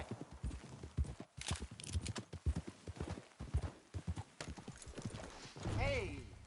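Horse hooves clip-clop in a quick trotting rhythm in Red Dead Redemption 2, with people talking over the hoofbeats and a horse neighing near the end.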